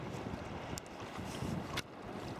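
Steady wind rushing past the microphone while sea kayaking along a coast, a constant broadband roar with faint water sounds and brief gust bumps, no talking.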